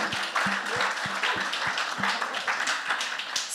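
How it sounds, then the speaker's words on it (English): A conference audience at the Zero Knowledge Summit applauds itself, with dense steady clapping over a low rhythmic thumping beat, moderately loud and close. "Let's give ourselves a round of applause"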